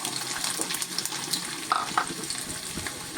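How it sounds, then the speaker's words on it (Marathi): Mustard seeds and garlic crackle and sizzle in hot oil for a tempering for urad dal, a close, steady frying hiss with scattered pops and a brief sharper burst at the end, no voices. "आता मोहरी छान तडतडतीये."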